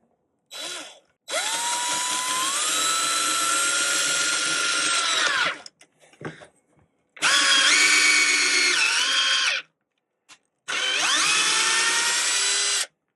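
Black+Decker drill driving GRK cabinet screws into wood without pre-drilling, in three loud bursts of steady motor whine that rises in pitch as each burst starts and bogs slightly as the screw seats, with short pauses between.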